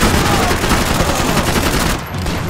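Gunfire in Max Payne 3, a dense, loud volley of rapid shots crackling continuously for about two seconds, then cutting off abruptly into a quieter tail.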